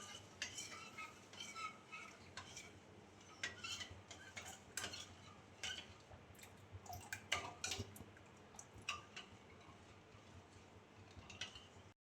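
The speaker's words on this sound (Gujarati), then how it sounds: "ધીમે ધીમે ચમચો ફેરવતો રહેવાનો." A spoon stirs sugar syrup slowly in a pot as it dissolves for a fennel sharbat, giving faint, scattered clinks and scrapes against the metal over a low, steady background.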